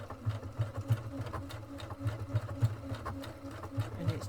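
A sewing machine stitching an overcasting stitch along the edge of fabric, running close and steady with a fast, even mechanical chatter and regular pulsing, no talk over it.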